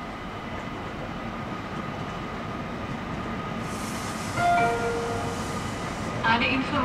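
Steady rumble and rolling clatter of a train arriving at the platform of Salzburg Hauptbahnhof, with brief brake squeals and station ambience near the end, no talk.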